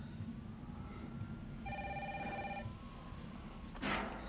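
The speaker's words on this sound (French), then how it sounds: "Ah, le téléphone il sonne." A telephone rings in the Resident Evil 3 video game, a single electronic ring burst of steady tones lasting about a second, set against a low background hum and followed by a brief rustle.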